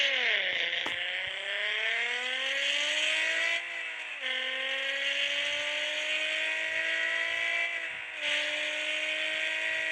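A repaired car accelerates hard at speed, its engine whine rising in long sweeps between gear changes, loud and steady with brief dips at each shift.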